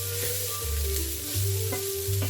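Sausages fry in a pan in a cabin kitchen, a steady close sizzle with soft stirring scrapes swelling and easing over a couple of seconds, no voices.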